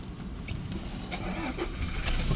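A Toyota Hilux D4D diesel with a DPF fault cranks and turns over in a workshop, the engine noise building close and loud over the short span.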